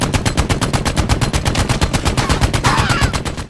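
Rapid automatic gunfire from the VR game Medal of Honor: Above and Beyond, a loud, close, evenly spaced burst of shots running unbroken for several seconds, with no speech.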